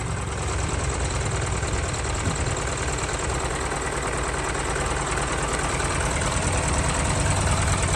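Isuzu 4HK twin-turbo engine in a six-wheel truck idling smoothly, a steady, close, even rumble with a faint knocking texture that holds unchanged throughout.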